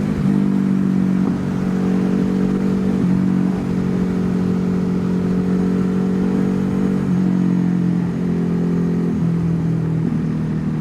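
Motorcycle exhausts from a Ducati HyperMotard and a KTM drone loudly and steadily while riding, with the engine note shifting through gear changes and wind rumble underneath.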